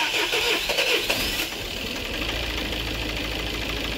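A Peugeot car engine cranks and starts, then settles into a rough, uneven idle with a misfiring stumble, close and loud throughout.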